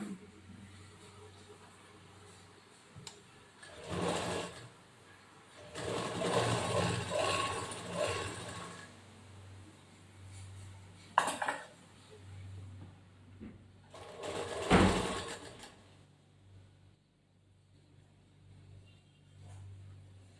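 Sewing machine stitching around a marked line a quarter inch in from the edge of blouse fabric, with short runs of whirring separated by quieter stretches and a low steady hum underneath.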